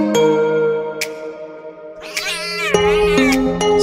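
A cartoon cat meows loudly in a couple of drawn-out, wavering cries over steady background tones.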